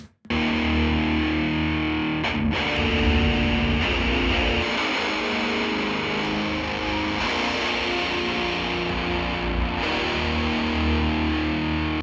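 Heavily distorted electric guitar through an open-back 1x12 cabinet chugs and rings out in steady riffs with brief pauses, sounding a little boxy and small, with no voices.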